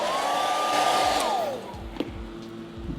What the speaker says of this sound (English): Now we're going to hit this with a hairdryer